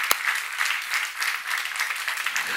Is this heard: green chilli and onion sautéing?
no